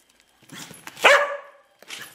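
A big black dog gives one sharp, loud bark close by, with quieter huffs and a whimpering breath around it and a short pause before a final soft sound.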